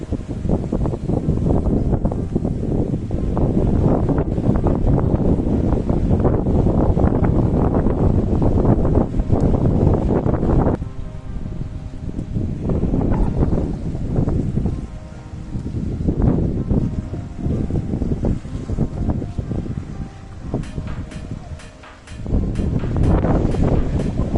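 Strong wind on a beach roaring across the microphone in loud sustained gusts, easing briefly midway then surging again, with no one speaking.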